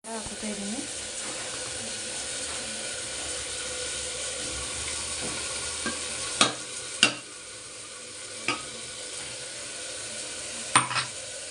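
Spices such as garam masala, chili powder, coriander and biryani powder are stirred in a frying pan, giving a steady close sizzle and hiss with a few sharp utensil clinks against the pan near the end.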